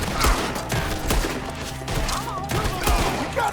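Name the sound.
gunfire in Red Dead Redemption 2 video game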